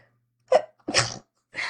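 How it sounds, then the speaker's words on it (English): A single loud sneeze up close, preceded by a quick sharp intake of breath and followed by a soft exhale. "Excuse me, I'm going to sneeze."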